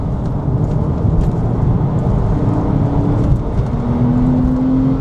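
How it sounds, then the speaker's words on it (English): A C2S car engine drones steadily from inside the cabin as it is driven and downshifts, a low rumble with tones rising and shifting under a constant road noise. "Let's see what the downshifts are like."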